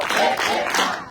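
A church congregation at a Pointe-Noire service for a visiting preacher claps in a brief, loud burst mixed with voices.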